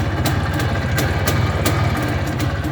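An IZh Planeta 2 motorcycle engine idles close by with a loud, steady, low-pitched throb and regular firing pulses that keep an even rhythm throughout.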